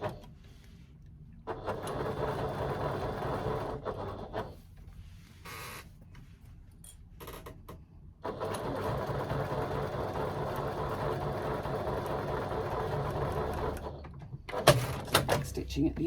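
A sewing machine stitches at the end of a seam to lock the threads on a bag handle sandwiched between layers, its motor whirring in close bursts that start and stop between short pauses.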